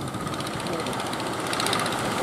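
A Johnson outboard engine running on a fishing boat at Puger, Plawangan, giving a steady, close mechanical drone with a buzzy high whine that swells slightly toward the end.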